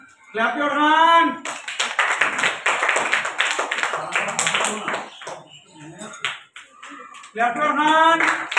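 A group of children clap their hands together at a school class prize announcement, a dense burst of many overlapping claps lasting several seconds between stretches of a man's spoken announcement.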